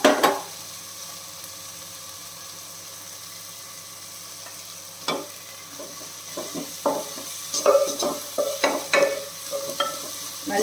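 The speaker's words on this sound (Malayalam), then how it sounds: "ബ്രൗൺ കളർ ആവുന്നത് വരെ വഴറ്റണം നമ്മുടെ സവാള നല്ലതുപോലെ വഴണ്ടിട്ടുണ്ട്" Onions sautéed in a pan until brown for prawn biryani: a steady sizzle underneath, broken by clusters of scraping stirs and clinks from a utensil against the pan, with no talking.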